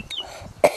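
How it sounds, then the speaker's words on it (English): A person coughs outdoors during metal detecting in the Yorkshire Dales: a faint hack, then one louder, close, abrupt cough. "Cough, cough."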